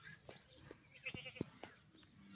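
Goats on a Philippine goat farm let out a few short, faint bleats scattered over a quiet background, with a brief louder call near the middle and soft rustling between them.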